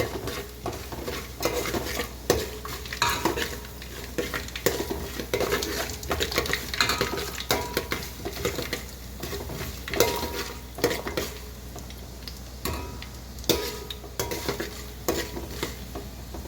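Chana dal, urad dal and cumin frying in oil as the tempering for bansi rava upma, with continuous close stirring and spoon scrapes against the pan over a light sizzle and irregular clinks.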